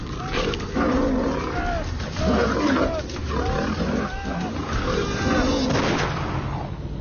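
A lioness roars and snarls in repeated deep, rough bursts at close range during a struggle with a man who holds her tight, with heavy rumbling noise beneath.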